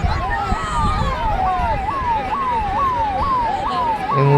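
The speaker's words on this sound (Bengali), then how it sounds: "অ্যাম্বুলেন্স যাচ্ছে, এটার জন্য রাস্তা ক্লিয়ার করছে সবাই" An ambulance siren wails in a fast, repeating rising-and-falling pattern, loud and close, as it moves through a crowded Rath Yatra chariot festival street in Itahar, with crowd noise underneath.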